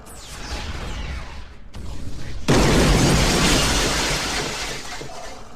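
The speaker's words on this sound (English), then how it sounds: "There's just an explosion for some reason." A loud explosion in the video game Advent Rising bursts in after a shorter rumbling blast, then a sustained roaring, crackling wash that slowly fades, with no talk.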